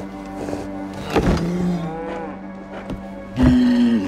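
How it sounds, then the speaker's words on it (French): A cow lowing in Assassin's Creed Origins, set in ancient Egypt, several drawn-out moos close and loud, the strongest near the end, with no speech over them. "Vache."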